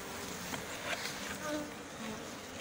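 Bees buzzing steadily around an opened beehive worked without a smoker, a dense continuous drone close by with faint handling noises and no clear talk.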